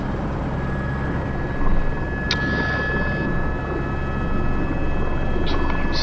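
A helicopter lifts off slowly for a sling load operation over a road at Hunnedalen, its rotor and engine making a steady, close, continuous drone with a faint higher whine and a few brief clicks on top. No one speaks.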